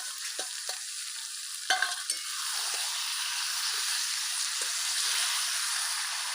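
Chicken with tomato paste and spices frying in a pan, a steady loud sizzle throughout with a few spatula knocks and scrapes as it is stirred, no voices.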